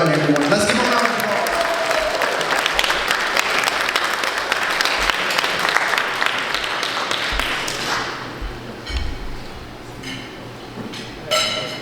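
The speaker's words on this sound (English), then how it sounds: "Let's give him a round of applause." A large audience at a track team brunch claps in loud sustained applause for a guest, thinning into scattered claps and taps near the end, with voices mixed in.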